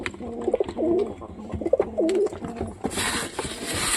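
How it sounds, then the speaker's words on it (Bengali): Pigeons being fed corn coo nearby in repeated soft, rolling phrases, followed by a burst of rustling, flapping noise near the end. "তো সব কবুতরগুলো ধীরে ধীরে নেমে যাবে।"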